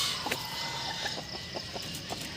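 A Silkie hen clucks in a series of short, soft, scattered calls, close by, over a steady hum of background noise.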